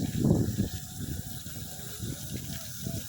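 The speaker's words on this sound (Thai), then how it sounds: "โอ้ เสียงน้ำครับ" A two-horsepower solar-powered pump sends a strong flow of water gushing out, heard as a close, rushing splash that surges at the start and keeps pulsing unevenly, with no talk over it.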